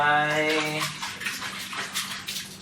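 Water runs steadily from a tap while dishes are washed by hand, a continuous hiss with a woman singing over the first second before the water continues alone.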